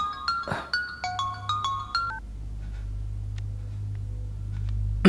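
A melodic telephone ringtone plays in a movie scene, a quick series of repeating electronic tones for about two seconds, then stops, leaving a low steady hum.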